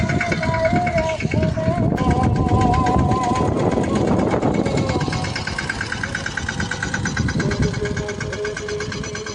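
A tractor engine runs in a farm field, a steady mid-pitched rumble that holds loud and close throughout, easing slightly toward the end, with people talking over it.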